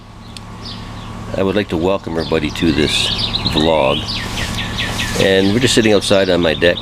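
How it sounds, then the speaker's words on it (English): Birds chirp and sing outdoors around someone talking close by, with steady insect buzz in the background. "listening to the birds singing."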